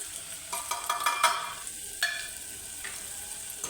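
Onion and tomato with Kolhapuri masala, turmeric and salt sautéed in a pan, a soft continuous sizzle broken by several sharp spatula scrapes and stirring knocks.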